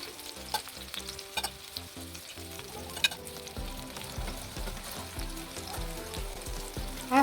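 Marinated chicken drumsticks fry over a low flame in a pan, a soft, continuous sizzle with occasional stirring clinks and scrapes, fairly quiet and free of talk.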